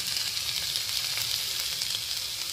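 Chopped onion frying in a pan with already-fried garlic and ginger, a steady, dense, close sizzle that crackles evenly throughout with no talking.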